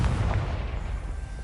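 A fiery blasting curse bursts with one deep, booming explosion in a wizarding action video game, a heavy low rumble rolling out and fading over about a second, with no talk.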